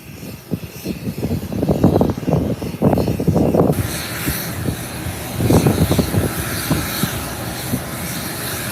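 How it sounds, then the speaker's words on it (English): An American Airlines airliner taxies and swings through a 180-degree turn at the runway threshold, its engine roar swelling and fading in a steady, moderately loud rumble with no one talking. "American Airlines has just made its 180-degree turn at the threshold."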